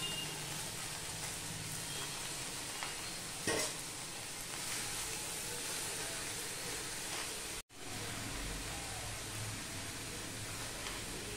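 Ash gourd pieces cut like fries sizzle in a hot wok, a steady broadband frying hiss with occasional stirring scrapes, continuous and fairly close, briefly dropping out once.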